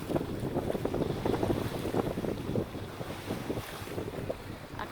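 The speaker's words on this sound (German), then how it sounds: "Aktuell haben wir so 14 Knoten Wind, scheinbarer Wind, und segeln um die 5 Knoten." Sailboat under sail in about 14 knots of apparent wind at around 5 knots off the Italian Riviera coast: steady rushing wind buffeting the microphone with water washing along the hull, continuous and fairly loud, no talking.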